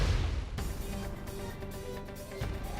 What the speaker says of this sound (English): Explosion in the hangar!